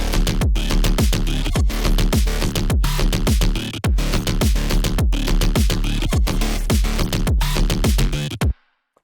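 Mid-tempo electronic dance drop, loud and dense, with heavy punchy kicks and chopped vowel-like bass stabs filling a steady driving rhythm, ending abruptly into silence.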